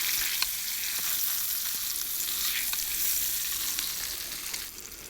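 Salmon and asparagus sizzle and crackle in a pan over a homemade can camping stove, a steady close frying hiss with a few scattered pops and no talking.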